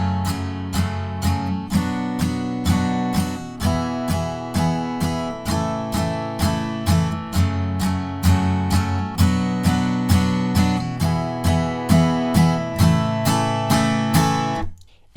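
Guitar strums chorus chords from a song in steady down strokes, building in intensity with evenly spaced, punchy strums throughout and a sudden stop at the end.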